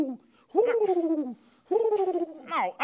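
A puppet performer imitates a pigeon with throaty, warbling hoo-hoo coos, given in two long drawn-out bursts separated by a short pause, close and loud.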